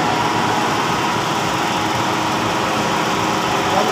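A big exhaust fan blower runs steadily up close, a loud continuous broadband whoosh with a low mechanical hum and no breaks.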